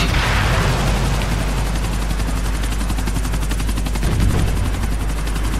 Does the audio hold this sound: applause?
no